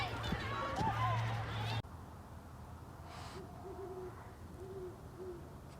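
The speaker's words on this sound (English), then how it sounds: "Is that great horned owl?" Low, soft great horned owl hoots come in a short series after a brief burst of nearby talking, with faint background noise throughout.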